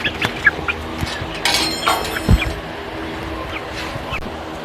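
A hen with her chicks, clucking in short close calls with faint thin peeps around them and a few scattered bumps and handling noises.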